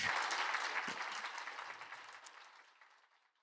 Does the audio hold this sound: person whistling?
no